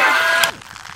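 Cartoon milk pours down like a shower, a dense hissing spray for about half a second that cuts off abruptly into quiet.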